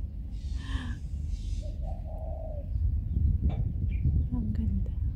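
A bird calls a few times at moderate distance on Peng Chau island, Hong Kong, soft and intermittent, over a low outdoor rumble with faint voices nearby.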